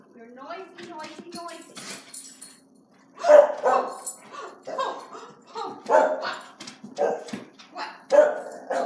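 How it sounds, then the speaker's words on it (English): A dog barks and yips repeatedly in short bursts close by, with a person talking between and over the barks. "What, you noisy dog?"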